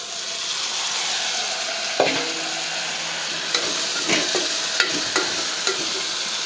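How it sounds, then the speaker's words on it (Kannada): Raw field beans and potato frying in oil give off a continuous close sizzle, with a few sharp taps and scrapes from stirring scattered through it and no voices. "ಎಣ್ಣೆಲಿ ಹುರ್ಕೋಬೇಕು ಇದನ್ನು"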